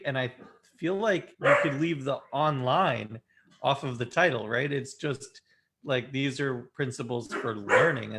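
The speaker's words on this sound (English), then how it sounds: "sorry about the barking dog" A dog barks intermittently in the background while two people hold a conversation, the barks partly buried under the steady talk.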